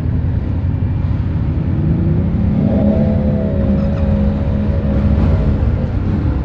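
A motorcycle engine, a Yamaha Tenere 700, pulling hard under acceleration on a mountain road, a loud continuous drone with rising engine tone and wind rush throughout.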